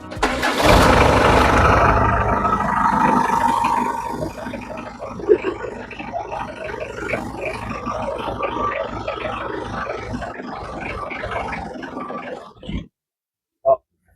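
A car engine cranks and catches, running roughly for several seconds with voices over it before it stalls and falls silent, followed by a brief thud.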